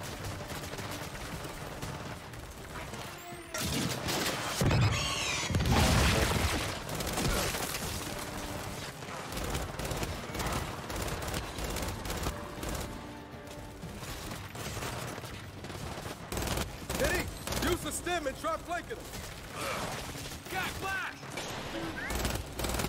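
Gunfire in a Gears 5 firefight against snipers: dense bursts of shots and mechanical clatter run throughout amid game effects, with a person talking over the action.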